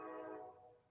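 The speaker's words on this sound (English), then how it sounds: "can you hear the train?" Train passing outside an open window on a hot day, a faint, brief tonal horn-like drone that fades out quickly.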